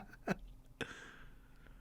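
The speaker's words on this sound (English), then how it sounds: "I have a bad case of the hiccups" A single sharp hiccup from a man on a podcast, close and fairly loud, followed by a second softer hiccup-like catch, with quiet room noise between.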